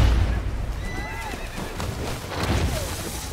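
A horse neighs and whinnies loudly in the film The Revenant, with wavering, drawn-out cries over a rough, rumbling background of hooves and commotion.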